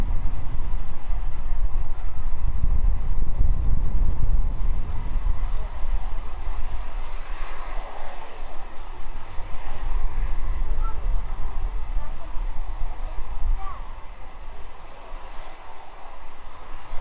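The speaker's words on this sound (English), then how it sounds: "As the 767 taxis out," A Boeing 767 airliner taxis out from the apron at East Midlands Airport. Its jet engines whine and rumble steadily nearby, louder at first and then easing as it moves off.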